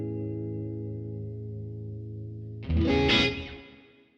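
Electric guitar played through boutique overdrive pedals: a sustained, steady overdriven chord rings alone, then a brighter, louder strummed burst hits near the end and decays away.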